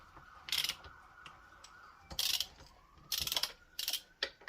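Head bolts on a Predator 212 engine being snugged with a ratchet, several short bursts of clicking pawl action separated by pauses, close up, no talk.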